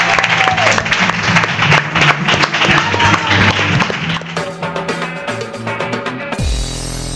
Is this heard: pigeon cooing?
no